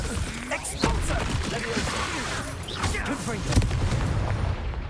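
Explosion spells in the video game Hogwarts Legacy go off in a busy combat scene, with repeated sharp booms and crashes layered over game effects while a voice talks throughout.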